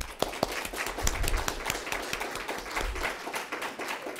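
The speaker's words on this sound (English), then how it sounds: "and a round of applause" Audience applause at a local history event, a moderate crowd of individual claps with distinct sharp hits standing out, steady for about four seconds.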